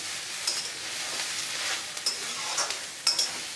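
Boiled soya chunks and tomatoes go into a pan of frying vegetables for a leftover roti snack, producing a soft steady sizzle with a few sharp stirring scrapes and clinks, close but fairly quiet.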